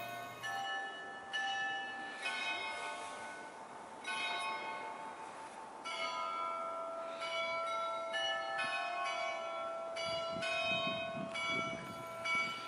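Large church bells at St. Michael's Golden-Domed Monastery in Ukraine ring near the bell tower, sounding repeated strikes whose bright, sustained metallic tones overlap and linger, loud and close throughout.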